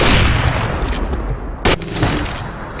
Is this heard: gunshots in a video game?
yes